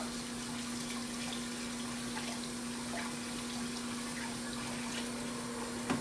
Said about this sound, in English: You hear that water rushing?